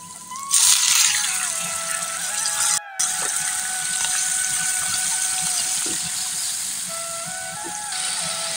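A small splash of water poured into ginger and garlic spice paste in a cooking pan, a steady gushing, watery hiss with a faint tonal hum running throughout, close and fairly loud, with a brief dropout near the middle.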